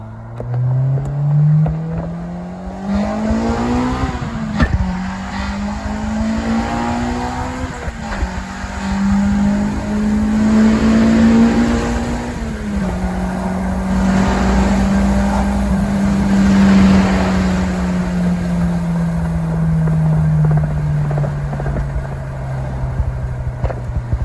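An Acura RSX Type S with a swapped-in K24 engine pulls hard in first gear. The loud, close engine note climbs steadily in pitch, dips briefly, then keeps rising and settles. No one speaks over it.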